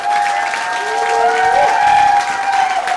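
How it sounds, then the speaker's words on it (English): A comedy club audience applauds the wait staff, a steady wash of clapping with some cheering that sustains at a constant level for the whole stretch, with no talking over it. "why don't we take this moment to give a little round of applause for your wait staff"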